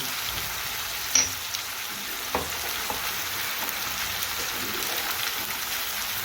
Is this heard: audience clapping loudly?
no